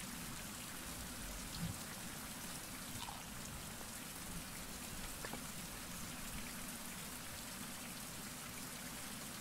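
Steady rain falling in the survival video game Survival - Fountain of Youth, a constant soft hiss of drops with faint scattered patters and no voices.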